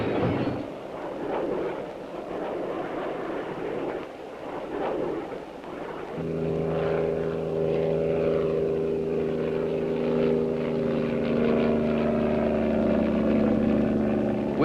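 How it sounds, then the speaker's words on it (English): A KD-2R5 propeller target drone launched from a catapult on the Point Mugu pad, a loud roaring rush first, then a steady droning propeller engine hum that holds throughout at close range. "Launched from a catapult on the Mugu pad is a KD-2R5 target drone,"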